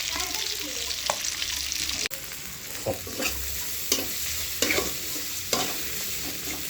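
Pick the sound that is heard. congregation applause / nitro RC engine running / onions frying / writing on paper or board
onions frying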